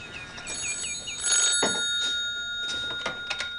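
An old telephone bell rings in a domestic room in a scene from the Scottish sitcom Still Game, giving a few short bursts of ringing with gaps between them and no talk.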